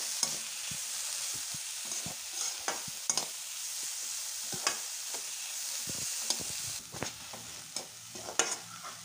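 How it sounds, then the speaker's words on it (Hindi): Steady sizzling from a hot kadhai with intermittent scraping and clicking as a utensil stirs spices; no voices. "इन सभी मसालों को हम कढ़ाई में डालेंगे और इसे अच्छे से मिक्स करते हुए"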